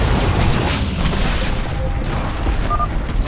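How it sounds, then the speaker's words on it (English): A StarCraft 2 cannon is destroyed in a deep, rumbling explosion that fills the whole stretch with a sustained roar and crackling debris, loud and dense with no clear pauses. "You've destroyed another cannon"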